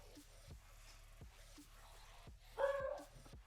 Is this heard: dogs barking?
yes